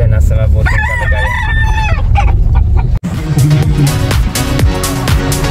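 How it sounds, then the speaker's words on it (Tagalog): Chickens cluck close by while a rooster crows loudly, followed by more clucking and farmyard commotion, with a faint voice in the background. "yung mga manok natin dyan nasa mabuting kalagayan"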